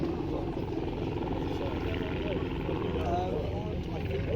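Small display aeroplanes fly at the East Kirkby Airshow, their engines a continuous droning roar that holds steady throughout under a commentator's voice.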